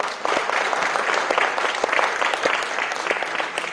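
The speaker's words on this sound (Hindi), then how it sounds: "अब सबके लिए ताली बजा दूंगा।" A crowd claps continuously at a panchgavya conference in Jharkhand, a dense patter of hands from many people at a steady level throughout.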